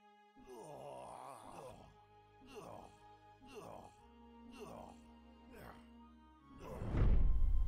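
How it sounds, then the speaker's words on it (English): Player death sound effect for a Unity MMORPG: a series of low, drawn-out male groans and moans, several separate pained cries in a row building to a louder final grunt, heard alone and fairly faint. "we're going to play a sound whenever the player dies"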